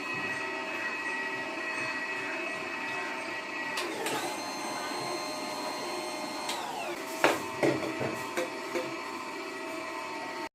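An automatic juicer machine extracting coconut milk hums and whines steadily, then a run of sharp clunks and squeaks near the end as the mechanism works, close and fairly loud.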